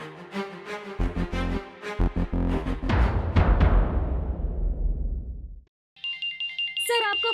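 A telephone rings with a melodic electronic ringtone for several seconds, then after a brief pause more chiming tones sound.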